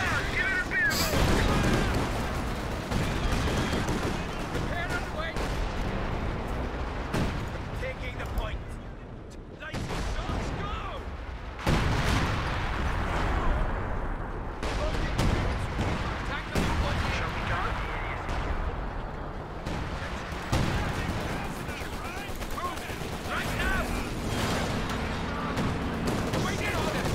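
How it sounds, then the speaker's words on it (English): Royal Artillery firing long-range shells in Company of Heroes 2: repeated heavy booms and crackling gunfire spread across the whole stretch, with voices talking over the battle. "Firing long range fire."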